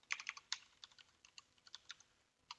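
Quick bursts of keystrokes on a computer keyboard as a short line of code is typed, clustered taps early then sparser clicks, close and fairly quiet with no talking.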